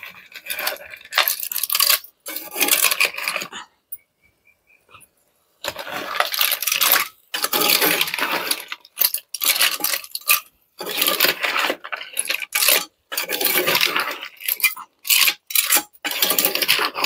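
A spoon scrapes and clinks through clams and potato in a pan, bursts of rattling shell-on-metal stirring broken by short pauses, close and alone.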